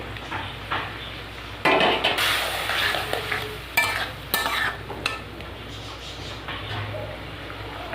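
Prawns frying in a pan with salt and turmeric, for a prawn and okra dish, with a steady sizzle and bursts of stirring and scraping against the pan.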